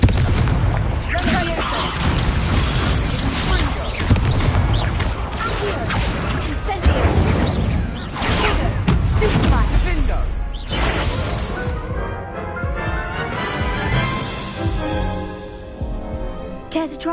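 Confringo blasting spells from Hogwarts Legacy on PS5 set off dense, loud booming explosions and crashes that keep going for about ten seconds, then thin into rumbling debris and faint voices.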